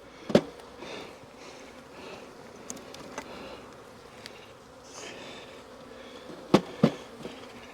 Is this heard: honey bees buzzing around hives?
yes